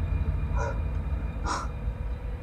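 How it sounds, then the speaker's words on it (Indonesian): Two harsh, crow-like caws, the second louder and longer, ringing out over a low steady rumble. "Kayak ini bunyi burung itu loh."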